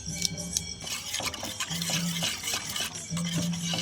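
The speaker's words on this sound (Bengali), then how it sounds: "চালের গুঁড়িটা ভালো করে মিশিয়ে নেবো" A rice flour mixture being stirred in a pot for milk pitha, heard as a steady, close scraping and swishing of a spoon against the vessel, with occasional light clinks under a low hum.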